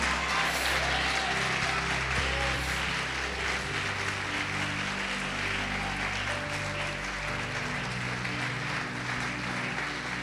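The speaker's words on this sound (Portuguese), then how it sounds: "Pode aplaudir, glorificar." A church congregation applauds during a worship service, and the steady mass clapping carries on throughout at moderate level.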